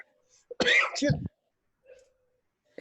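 A person coughs once: one loud, harsh burst lasting under a second in an otherwise quiet room, followed by faint breathing sounds.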